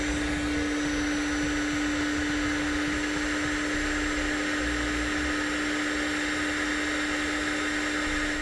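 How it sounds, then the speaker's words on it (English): A heat gun blows steadily and loudly throughout while shrinking butt connectors on trailer hitch wiring for a 2014 vehicle, a constant whooshing roar with a sustained hum tone beneath it. "We can now shrink down our butt connectors using a heat gun."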